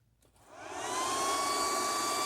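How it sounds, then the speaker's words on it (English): An induction heater tool's cooling fan spins up from silence, its whir rising over about half a second into a steady, fairly loud whine with a faint tonal hum, no talking. "You're going to hear the fan kick in."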